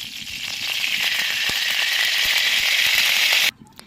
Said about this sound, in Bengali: তো এখন তেল দিয়ে দিই, কড়াইটা তেতে গেছে।